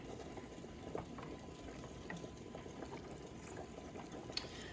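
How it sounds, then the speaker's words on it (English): Homemade beef gravy thickens in a pan as it is stirred, giving off faint, soft bubbling and small liquid pops against a low, steady background, with no talk. "just keep stirring and stirring and let it thicken"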